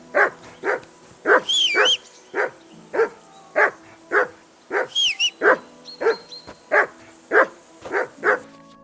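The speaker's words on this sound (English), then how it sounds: "Get that mutt of yours to stop barking, will you?" Dog barking in the video game Kingdom Come: Deliverance II, a steady series of loud, close barks at a regular rhythm with whistle-like chirps between them and no talk.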